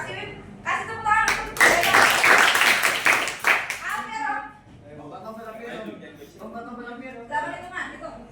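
Hands clap in a burst at a high school session at SMAN 23 Jakarta, a few seconds of loud rapid clapping between stretches of people talking.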